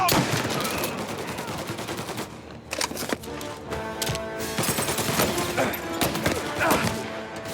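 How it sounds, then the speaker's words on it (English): Rapid bursts of automatic gunfire and single shots from a Mafia Definitive Edition video game shootout, loud and continuous throughout with dense overlapping reports and occasional thuds. "Reports of gunshots."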